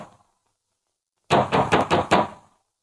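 Firm knocking on a wooden door in a 1944 Hindi film: about six quick raps in close succession, loud and near, following a moment of silence.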